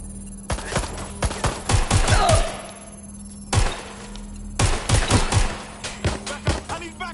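Gunfire in the video game Watch Dogs Legion: several bursts of loud, close shots in rapid clusters, separated by short pauses, with thuds and impacts among them.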